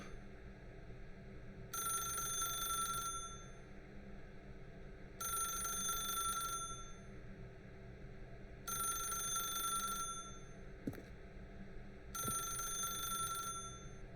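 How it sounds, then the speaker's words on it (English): A telephone rings in The Stanley Parable video game: four evenly spaced bursts of bright electronic trilling, each lasting over a second, over a faint steady background hum, with no voices. "If you can truly place your faith in another, then pick up the phone"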